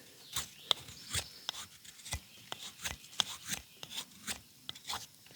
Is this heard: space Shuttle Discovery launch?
no